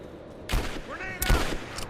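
Bursts of gunfire in Rise of the Tomb Raider, two loud rapid volleys of close shots with a brief sliding tonal effect between them and a fainter burst trailing at the end.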